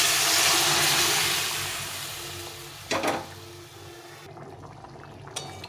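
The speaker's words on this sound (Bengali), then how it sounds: "মশলাটা ভাজা হয়ে গেছে, এখন আমি ডালটাকে ছেড়ে দেবো।" Chana dal poured into a pan of hot fried spices: a strong sizzle that gradually dies down, then a short splashy burst and gurgle as the lentils go in, with a small clink near the end and no talking.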